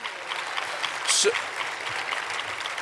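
Another round of applause for a panel of women physician leaders at a direct primary care summit, a steady clapping wash throughout with one brief louder burst near the middle.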